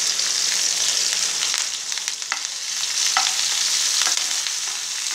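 Curry leaves lightly sautéing in a pan over low heat for a bitter gourd tamarind curry, a steady close sizzle and fry with occasional stirring scrapes, no voices.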